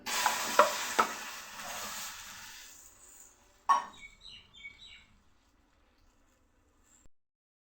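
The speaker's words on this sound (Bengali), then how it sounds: "দেখো আমার চিনিটা প্রায় গলে শিরা তৈরি হয়ে গেছে। এবার এর মধ্যে দিয়ে দেব সামান্য একটু জল।" A splash of water hitting melted sugar syrup in a steel bowl gives a loud, hissing sizzle that dies away over a few seconds, followed by a metallic clank and faint bubbling crackles that trail into near silence.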